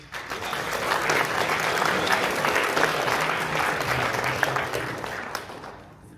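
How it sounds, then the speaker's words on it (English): An audience at a school honor society induction ceremony gives sustained applause for the students. The clapping stays dense and even throughout, then fades at the end. "could you guys please give a round of applause for all these amazing students"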